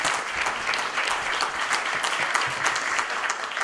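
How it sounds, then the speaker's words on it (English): An assembly audience at a political conference gives a steady round of applause, a dense, even patter of many hands with no talk over it. "Let's give Brother Green and Brother Scott and Brother Davis a round of applause"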